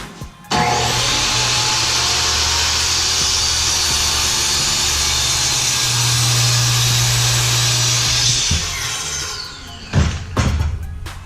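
A power saw cuts through wooden boards in one long, loud, steady whine that runs for several seconds, then winds down into a few clunks.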